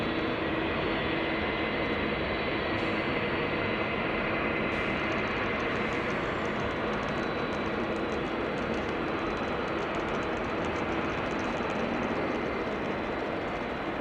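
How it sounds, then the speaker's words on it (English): Narrow-body airliners taking off at Amsterdam Schiphol Airport, a continuous broad jet roar held at a steady loud level for the whole stretch, with a thin high whine and no speech. "some narrow bodies are taking off"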